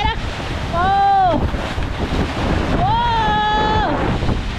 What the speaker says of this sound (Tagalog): Pero may magpaparamdam pa ho na alon.